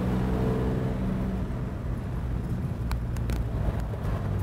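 A 1941 Plymouth car pulls away in third gear, its engine a loud, steady low rumble throughout, with a few brief clicks near the end and no talking.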